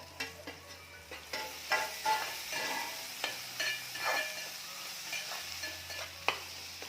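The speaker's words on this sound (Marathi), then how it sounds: "छान तांबूस रंगावर कांदा भाजलेला आहे" Onion frying in a pan, browned to a deep golden colour, for a dried bombil (Bombay duck) chutney: a soft steady sizzle with intermittent stirring scrapes and clicks, fairly close and moderately quiet, with no voices.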